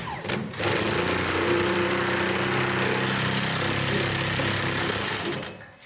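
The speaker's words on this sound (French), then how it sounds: "on va aller les visser comme il faut avec des screws" Power drill driving screws into wood, a continuous loud buzzing whine held for several seconds close by, starting after a brief knock and tapering off at the end.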